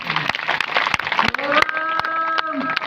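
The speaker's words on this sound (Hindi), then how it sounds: "कम से कम आप लोग ताली बजा के कलाकारों का हौसला करें।" Audience members at a devotional singing performance clap in a steady rhythm, sharp regular claps set against sustained sung tones.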